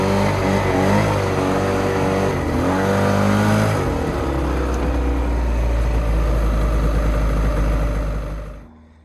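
A stalled vehicle's engine is fired up after a fuel problem, then revs hard and steadily for several seconds with rising and falling pitch before cutting off abruptly near the end, loud and close with no talk.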